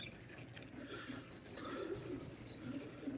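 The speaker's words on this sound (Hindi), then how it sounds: "ये देखें माशाल्लाह से ज़बरदस्त कबूतर है।" Pigeons kept for high-endurance flying give soft, low cooing, overlaid by a run of quick, thin chirps near the start and middle, faint and fairly close.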